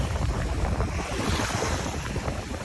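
Ocean waves on the shore at New Haven, Connecticut, during shore fishing, a loud continuous wash of surf mixed with heavy wind buffeting the microphone.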